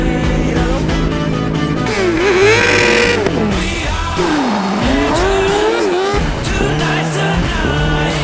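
Kart cross cars racing on a dirt track, engines revving and whining through rising and falling pitch as they accelerate and brake, loud and continuous with a backing of music.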